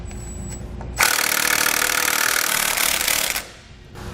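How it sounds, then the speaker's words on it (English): An impact tool or wrench loosens 5/8 bolts on an etrailer electric trailer brake with dust shield, a loud continuous whirring rattle of about two and a half seconds that stops abruptly, with no talking. "I'm going to take a 5/8 socket and I'm going to break them loose and let them free spin"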